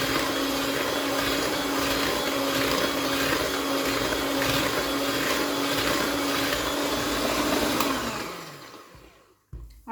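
An electric mixer whirs steadily through cake batter, a loud continuous motor drone that slows and winds down near the end before cutting off.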